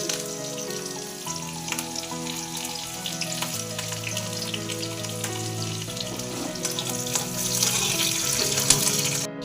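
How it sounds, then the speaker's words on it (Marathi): Mustard seeds, onion and curry leaves fry in hot oil for a raw papaya vegetable dish, a close, steady sizzle and crackle with intermittent pops that grows slightly louder toward the end. "आता तेलामध्ये आपण मोहरी टाकली आहे, कांदा, कढीपत्ता टाकून"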